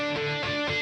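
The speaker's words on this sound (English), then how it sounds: "And then this is what's called a tap harmonic." Electric guitar tap harmonics played through a distorted amp, three tapped notes ringing out in quick succession with bright sustained overtones, close and clear with no talking.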